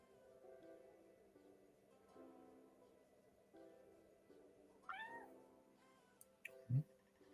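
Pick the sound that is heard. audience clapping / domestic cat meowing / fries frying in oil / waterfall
domestic cat meowing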